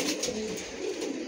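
Pigeons cooing nearby while being handled and shown, a brief burst of soft, rolling coos over a short stretch with no talk.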